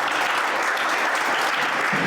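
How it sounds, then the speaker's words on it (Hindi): Audience applause at a school ceremony honoring SSLC toppers, a steady, dense wash of clapping from a crowd filling the whole stretch at even loudness. "इनके लिए तमाम के लिए एक बार 2 तालियां बजाएं।"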